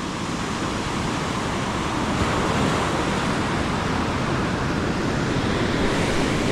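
Sea waves rough around a small boat in drizzly weather, a constant broad wash of surf and wind noise filling the scene at steady loudness, with no speech.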